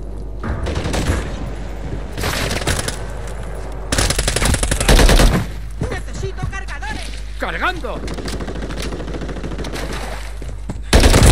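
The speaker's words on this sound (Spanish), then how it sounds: "¡Me están disparando!" Rapid automatic gunfire in the Call of Duty Modern Warfare III Invasion mode, with bursts of loud shots from an HK G36 rifle and other weapons cutting over game sounds, while a player talks.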